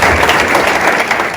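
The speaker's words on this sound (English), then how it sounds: "give everybody a big round of applause for their support" Audience applause after a call to thank NJROTC student volunteers who helped with parking, a steady dense wash of clapping from a crowd, loud and continuous for a brief moment without speech.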